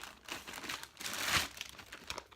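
Taped package of Versagel lip gloss base being opened, with close, crinkly rustling and a louder tearing burst in the middle, all fairly quiet and without talking.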